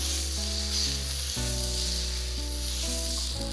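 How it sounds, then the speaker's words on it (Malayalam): Rice batter spread over a hot pan sizzles with a steady, even hiss, close and moderate in level, alongside a sustained low tonal hum, with no voices. "ഇനി ഒരു പാൻ വെച്ച് ചൂടാവുമ്പോൾ മാവ് ഒഴിച്ച് നന്നായി പരത്തി കൊടുക്കാം."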